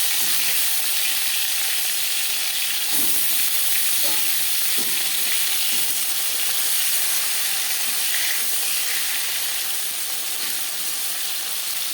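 Pieces of koi fish frying in hot oil for a Bengali tel koi dish give a steady, loud sizzle throughout, with a few soft clinks of a utensil partway through.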